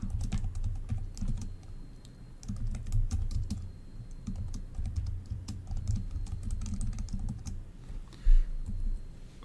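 Quick, uneven keystrokes patter on a computer keyboard, close and fairly soft, over a low hum of room noise with no speech.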